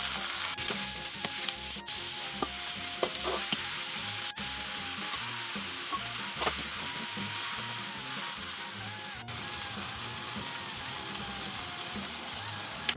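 Squid and pork belly stir-frying in a pan over medium heat for Korean spicy squid-pork bulgogi, a steady close sizzle with scattered scraping and clinking of the utensil throughout.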